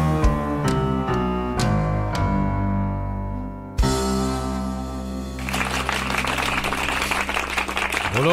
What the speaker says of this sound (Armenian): Այո, ծափահարություններ